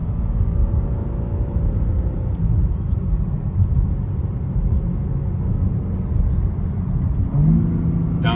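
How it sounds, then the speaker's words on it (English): A 2022 BMW M3 Competition xDrive engine rumbles steadily up close, with a brief rise in revs near the end as it downshifts, heard from inside the car without talk. "Downshifts sound amazing,"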